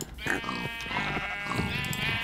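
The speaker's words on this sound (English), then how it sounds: "Sheep are doing good too, but it doesn't give me much XP now, does it?" Sheep bleat in a Minecraft farm, several wavering bleats overlapping in a steady, fairly loud chorus that fills the whole stretch.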